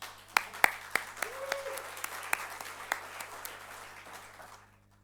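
Sparse clapping from a small conference audience, a handful of distinct claps spaced irregularly over a few seconds before tapering off into near silence; faint murmur in the background.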